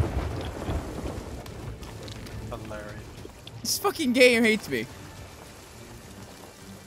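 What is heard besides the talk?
thunderstorm with rain in the video game Sea of Thieves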